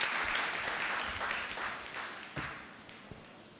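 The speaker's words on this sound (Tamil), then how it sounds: "நம்முடைய மீண்டும் ஒரு முறை கைதட்டல் மூலமாக." Audience applause at a Tamil pattimandram debate in Tiruvottiyur rises and then fades over a few seconds, with scattered claps lingering at the end.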